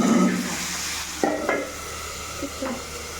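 Home-style chicken sizzles in a pan while a utensil stirs and scrapes it, with a few soft knocks against the metal.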